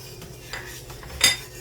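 A full tablespoon of rock salt is scooped and tipped into a large pot of boiling water, making a few light metallic clinks and a brief rattling scrape close by, over a soft background hiss.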